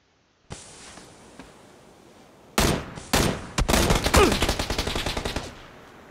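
Gunfire in PUBG: a few isolated shots followed by a sustained burst of rapid automatic fire, loud and close, trailing off after a couple of seconds, with a steady low background hum beforehand.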